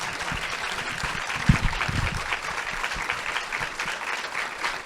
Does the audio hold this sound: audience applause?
yes